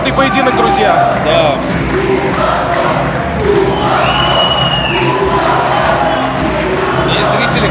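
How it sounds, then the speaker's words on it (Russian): A wrestling crowd at a hardcore New Year match cheers and applauds the winner. The roar is loud, dense and continuous, with thumps and whoops mixed in, and a voice is heard over it. "И зрители, конечно, овации встречают победу Владимира Кулакова."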